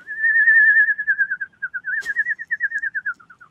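A person whistles an imitation of the eerie sound effect used when a ghost appears in games: one long wavering tone that slides slowly downward, then breaks into a pulsing, trembling run, heard clearly on its own.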